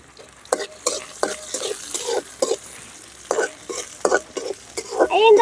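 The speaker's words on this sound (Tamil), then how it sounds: "நல்லா வதக்கணும் வரமிளகாய் போட்டுக்கலாம்" Wild broad beans and dried red chillies with onion being stirred and sautéed in a pan, with intermittent scraping and stirring strokes over a light sizzle, close and fairly loud.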